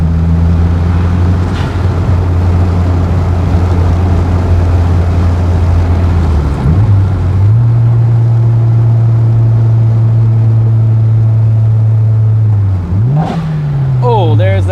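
A classic car drives along the road, its engine droning close and loud, with the pitch climbing and dropping through gear changes and a final rev toward the end.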